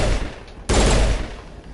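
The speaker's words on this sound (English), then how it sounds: "Oh yeah, I've actually got the auto pistol on." Auto pistol gunfire in Mass Effect: a loud, dense burst of rapid shots starting abruptly partway in and running for about half a second before fading into a lingering tail.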